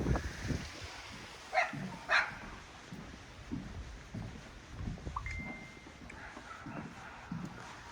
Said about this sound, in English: got a yappy dog on this porch over here that won't shut up.